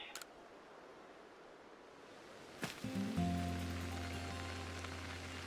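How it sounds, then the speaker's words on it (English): Rain in the video game Pokemon Legends Arceus: a soft, steady hiss of rainfall, joined midway by a sudden bright tone and sustained low game music under the rain. "Oh no, it's raining, isn't it?"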